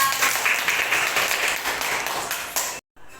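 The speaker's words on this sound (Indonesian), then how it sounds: "tepuk tangan untuk Kaila" Students in a classroom clap for a classmate, a brisk burst of many hands that carries on steadily, then stops abruptly before a brief quieter tail.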